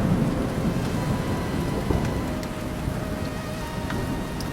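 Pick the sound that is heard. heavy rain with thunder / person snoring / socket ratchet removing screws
heavy rain with thunder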